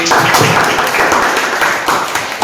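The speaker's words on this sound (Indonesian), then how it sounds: "beri tepuk tangan untuk Ali." Applause in a classroom, a group of students clapping together steadily and fairly loudly for about two and a half seconds, a dense continuous patter with no talk over it.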